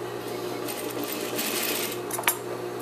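A sewing machine stitches two pieces of fabric for a shift dress with bishop sleeves in a steady, fast mechanical whir up close. The stitching speeds up briefly and ends with a sharp click.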